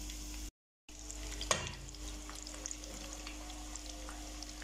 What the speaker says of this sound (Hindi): तो बहुत ज़्यादा टाइम इसे हमें फ्राई नहीं करना पड़ेगा।